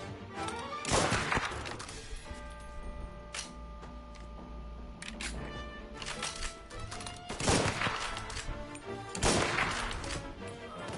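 Bursts of gunfire from a 1930s-style Mafia: Definitive Edition shootout crack out in several loud clusters over about eleven seconds, with sharp impacts and debris clatter between volleys against a steady low hum.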